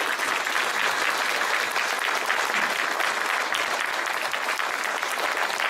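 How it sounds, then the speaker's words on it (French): An audience at an art exhibition opening breaks into loud, dense, continuous applause, a steady wall of many hands clapping at once without pause. "on peut l'applaudir"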